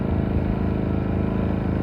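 A Maxpeedingrods 3300 watt inverter generator runs at a steady idle, its exhaust giving a continuous low, throaty engine drone with even pulsing, close and fairly loud and heard on its own.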